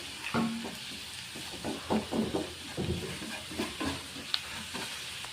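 Chili powder masala being stirred and sautéed in a pan for egg gravy, with soft scraping strokes and a low sizzle in irregular bursts, close and fairly quiet.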